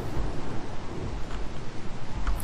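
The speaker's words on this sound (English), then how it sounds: "It is raining though." Steady rain hiss with low rumbling thunder underneath in the video game RimWorld, continuous and fairly loud throughout, no voices.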